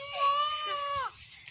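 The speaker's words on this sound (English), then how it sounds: "here I got cow now." A young calf calls out in a single drawn-out, wavering bleat lasting about a second, close and fairly loud, with a fainter trailing call at the end.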